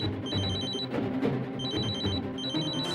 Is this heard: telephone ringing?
yes